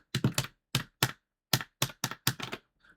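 Buttons on an 8BitDo Arcade Stick clicking in quick bursts, several sharp taps in clusters and singles, close and crisp with quiet gaps between presses.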